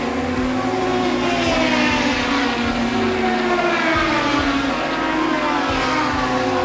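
A Cosworth BD racing engine in a historic Grand Prix car screams at high revs, holding a loud continuous whine with rising and falling pitch as it passes.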